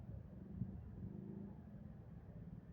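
City street traffic at Malvar and Ilustre streets, a low continuous rumble of car engines, with one vehicle revving gently, steady and moderately distant.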